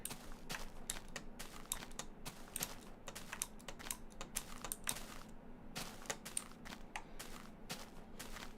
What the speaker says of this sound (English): this keyboard is genuinely so loud